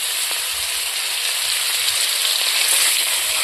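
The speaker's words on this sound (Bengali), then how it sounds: "এখন আমি ডিমগুলো ভাজি নেব।" Eggs fry in a pan for a Bengali banana flower and egg curry, giving a steady close hiss and sizzle with faint crackles, no talk.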